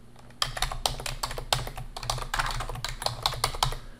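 Close, crisp typing on a computer keyboard as text is entered, a quick irregular run of distinct clicking keystrokes with no talking.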